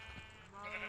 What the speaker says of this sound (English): We have a total of 4 sheep and 3 cows.